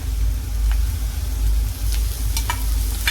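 Ground green chili paste frying with reddened onions for a potato bhaji, a soft sizzle with a few utensil taps and scrapes over a constant low hum, close and without speech.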